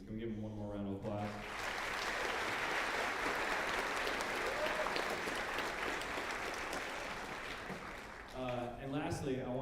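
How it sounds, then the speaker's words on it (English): Audience applause at a fifth-grade school band concert, a sustained wash of many hands clapping for several seconds, with talk briefly before and after. "Can we give him one more round of applause?"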